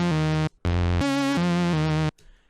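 Lead synth patch with a strong pitch vibrato from an LFO, playing a short melodic phrase of three or four sustained notes with a brief gap, bright and distorted, alone with no other sounds.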